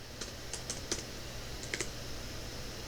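Light keystrokes on a computer keyboard, a handful of quick soft clicks in two short bursts, close and clear over a steady background hiss.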